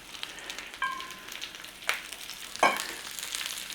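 Cabbage stir-frying in a pan, with quiet sizzling and a few sharp scraping clatters of a utensil tossing it, spaced irregularly over a low hiss.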